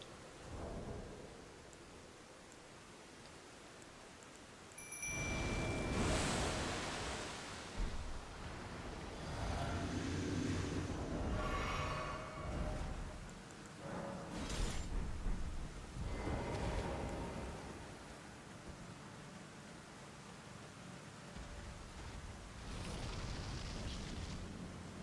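Heavy rain and rolling thunder in the video game Elden Ring, with loud booming rumbles that swell and fade over a steady wash of rainfall, with no talking.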